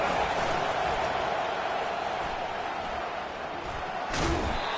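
A steady, dense stadium crowd roar fills a college football video game as fans rally behind the defense on a big third down, with a brief thud near the end.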